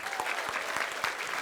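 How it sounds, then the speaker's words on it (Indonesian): Studio audience on an Indonesian TV quiz show applauds steadily and densely for a short stretch, a continuous wash of many hands clapping close and loud with no talk over it. "sebelumnya kita berikan tepuk tangan untuk Pan Ledut."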